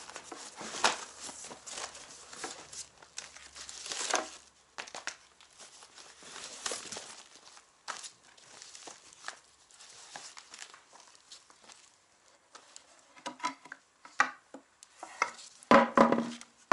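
Old, half-rotted factory cardboard packaging, bound with a rubber band cut from a truck inner tube, is unwrapped up close: irregular crinkling, rustling and tearing bursts over about seventeen seconds, with no talk.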